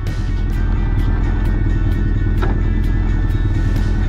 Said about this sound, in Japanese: アイドリングもめちゃめちゃ安定して、はい、こんな感じで、もうねエンジンの音が違いますもん